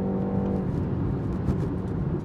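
A new BMW 3 Series with 400 Nm of torque pulls hard under acceleration. The engine gives a loud, steady tonal growl close by, blended with road and tyre rumble, and no one talks.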